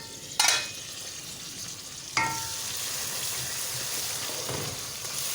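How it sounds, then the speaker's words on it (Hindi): Onion, tomato, ginger and garlic boil hard on a high flame for a Sindhi fish and guar curry, giving a continuous bubbling sizzle. Two sharp clatters of a utensil against the pot cut through near the start and the middle. "इसको मैं तेज़ आग पे रख रही हूँ ताकि अच्छी तरह से बॉयल हो जाए।"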